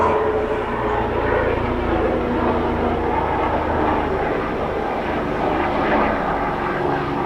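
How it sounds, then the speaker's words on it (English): A steady, loud rumbling engine drone fills the whole stretch, a Broward Sheriff police helicopter passing near overhead after leaving an executive airport, with no break in the roar. "The sheriff's helicopter is going."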